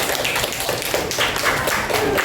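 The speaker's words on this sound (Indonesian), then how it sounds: "Tepuk tangan untuk kelompok lahat" Classmates in a school classroom counselling session applaud a student group, a busy, close crowd of clapping with taps and thumps running steadily throughout, with little talk.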